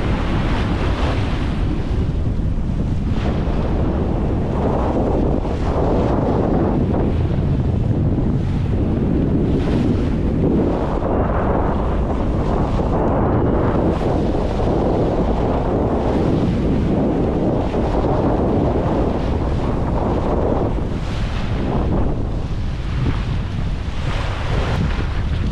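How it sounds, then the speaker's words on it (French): Strong 18 to 22 knot wind at sea buffets the microphone continuously on a sailboat passage between St Vincent and St Lucia, with waves and surf rushing beneath, loud and unbroken throughout, no voices. "il y a entre 18 et 22 nœuds de vent"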